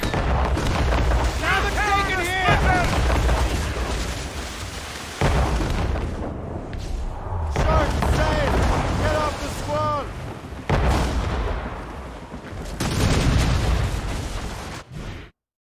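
Ship cannons and mortars fire in the naval combat of the video game Assassin's Creed Rogue, booming bursts against a constant roar of battle, while voices shout in between the blasts before the sound cuts out abruptly.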